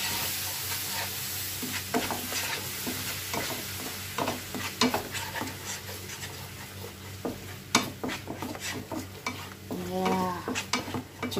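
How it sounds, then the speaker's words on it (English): Mango cake batter is mixed by hand in a bowl, giving repeated soft scraping and wet swishing strokes in an uneven rhythm, close and moderately quiet, with no talking. "And now it's time for us to mix it. Mix it really nice."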